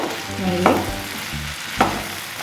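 Potato pieces frying in a pan for Bengali murighonto are stirred briskly, a loud close sizzle broken by two scraping strokes of the spoon against the pan.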